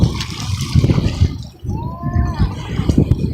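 Beach water sloshes and splashes around a swimmer up close, a loud, churning, gurgling wash that rises and falls in uneven bursts.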